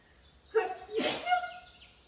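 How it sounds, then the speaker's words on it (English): A single sneeze, set off by cayenne or paprika rub on pork shoulder, with a sharp intake and burst, close by, followed by a brief voiced trailing sound. "There's the sneeze. Told ya."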